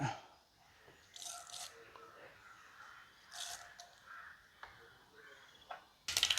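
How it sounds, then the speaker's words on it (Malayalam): Mustard seeds splutter in hot oil, giving short bursts of crackling and popping, sparse at first and then a denser, louder flurry at the end. "കടുക് പൊട്ടി വന്നിട്ടുണ്ട്"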